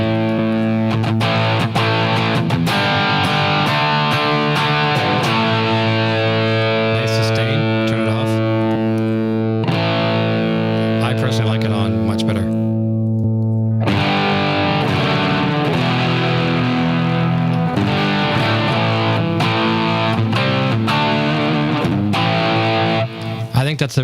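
Electric guitar through a Line 6 Helix, with a distortion pedal block, plays loud sustained chords and notes for most of the span, with a brief drop in the middle before the heavy distorted tone resumes.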